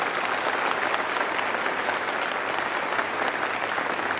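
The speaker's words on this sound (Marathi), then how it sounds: "पुन्हा तुमचा आवाज आला पाहिजे, जोरदार टाळ्या वाजवायच्या का." Loud, sustained applause from a lecture audience fills the whole stretch, a thick continuous roar of many hands clapping with no pause.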